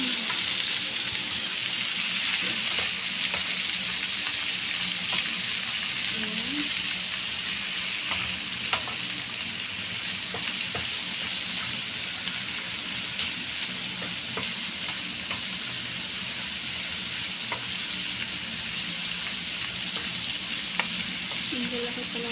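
Beef and broccoli stir-frying in a hot pan, a steady loud sizzle running throughout with scattered scraping clicks of stirring utensils, no voices.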